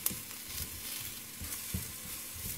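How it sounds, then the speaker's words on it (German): Eggplant slices sizzle and fry steadily in a pan, turned over partway through for marinated eggplant with peppers, a continuous close crackle with a few soft clatters and no speech. "So, eine Seite ist schon gebraten, drehen wir sie um."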